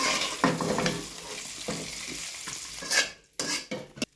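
A spoon stirs dry fish curry made with bommidelu in a hot pan. There is a soft sizzle under several distinct scraping strokes, which grow sharper and more clattery toward the end, with no talking.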